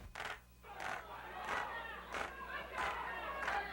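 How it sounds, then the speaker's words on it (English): An unruly crowd at City Hall chants and jeers in regular rhythmic bursts roughly every two-thirds of a second, with a raucous mass of voices at moderate distance and a faint low hum beneath. "the jeering and chanting interfere with proceedings in courtrooms on the third floor"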